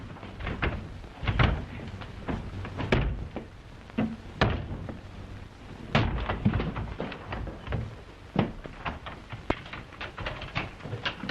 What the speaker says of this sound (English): Open that door at once.